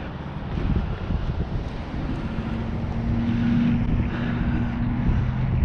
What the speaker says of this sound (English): The wind is coming in to the right